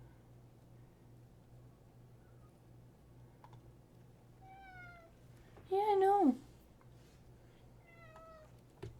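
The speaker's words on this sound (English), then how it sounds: "In goes my cat." A cat meows twice in the foreground, once in a short rising call and then a louder drawn-out bending meow. Sparse keyboard clicks come before and after, with a quiet voice briefly speaking over a low steady hum.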